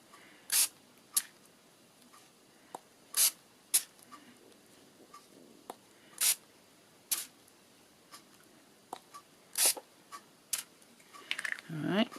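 A Just Walnut Infusions ink spray bottle gives short, sharp hissing bursts with uneven gaps between them, about a dozen sprays in all, the older bottle jamming a little, with small handling noises in between.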